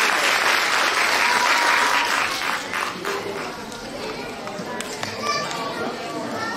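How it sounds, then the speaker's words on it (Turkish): An audience applauds at a kindergarten year-end show, with a burst of clapping that is strongest at first and then thins. Children's voices and chatter sound beneath it. "Hazırsanız kuvvetli bir alkış onlar için gelsin"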